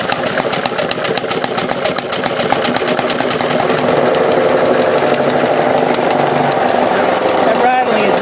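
A 100-year-old Briggs Model F engine runs with a fast, steady chugging while the table beneath it rattles, and a voice talks over the running motor.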